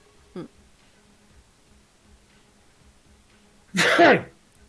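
A single loud, close sneeze bursts out after a small throat sound and a stretch of quiet room noise.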